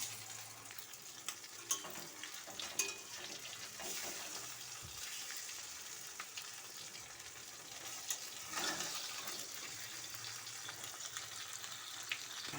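Rohu fish pieces coated in cornflour slide one by one into hot oil in a kadai, producing a soft, continuous bubbling sizzle with occasional spatters and stirring scrapes, fairly faint and steady.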